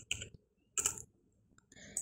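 Keys clicking on a computer keyboard as a short command is typed in drafting software, three brief bursts of taps separated by pauses, close and fairly quiet.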